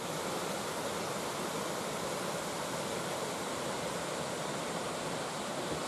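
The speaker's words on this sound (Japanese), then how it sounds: "これが不動の滝ですね。" Fudo Falls beside a mountain shrine in Higashiagatsuma pours with a constant broad roar, a thick unbroken rush of falling water filling the whole stretch without any talk.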